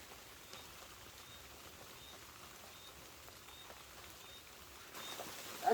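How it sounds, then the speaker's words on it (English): Light rain falls around a late-spring campsite in KwaZulu-Natal, South Africa, a soft, even patter that stays faint and steady, with a slightly louder rustle near the end. "Why does it always rain?"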